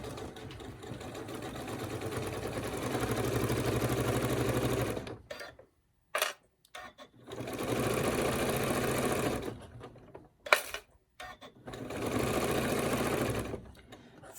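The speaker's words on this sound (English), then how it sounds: "And let's just start sewing." Sewing machine stitching seams on a fleece hooded poncho, running in several close bursts of steady whirring, each lasting a few seconds and broken by brief pauses and small clicks, no talking.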